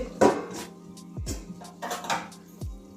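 A metal lid is set over a cooking pot of soya chunk, potato and pointed gourd curry, with several sharp clanks and rattles of pot and lid against steel close by.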